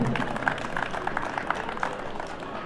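Applause from the crowd at a banda show central ceremony held in a convention hall, steady clapping at moderate volume throughout, fairly distant and diffuse, with faint voices underneath.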